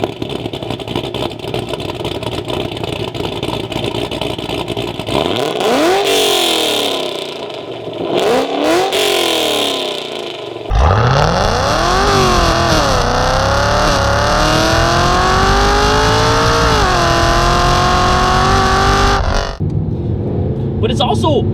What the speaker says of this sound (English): It's got a good, nice cam sound to it when at idle.